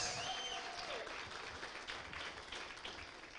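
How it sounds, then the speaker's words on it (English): Audience applause for the judges at a youth entrepreneurs pitching event for clothing, textile and furniture manufacturers, a steady dense patter of clapping from a crowd, faint and fading slightly over a few seconds. "Can we please give all our judges a round of applause?"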